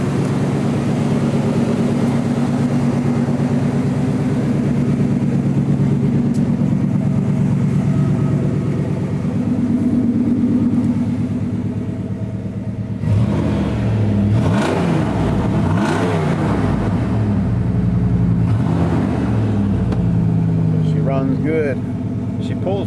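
A car engine with a Cherry Bomb exhaust and a plug-in Jet performance module revs and drones loudly and steadily, rising and falling in a few bursts near the end, alone without talk.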